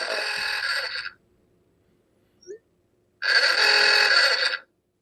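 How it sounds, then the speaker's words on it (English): Phone ringtone of an old Model T car horn, two loud buzzy honking bursts separated by a brief pause, close and alone. "That's my ringtone. Oh, God. Old Model T horn."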